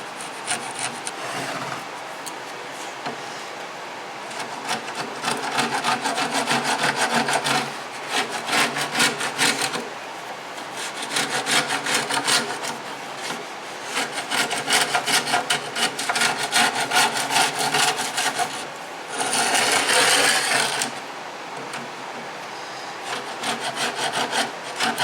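A sharpened chisel works wood while a cabinet for old desk drawers is built, giving a steady, close scraping and rasping with rhythmic strokes over about twenty-five seconds and brief pauses between passes.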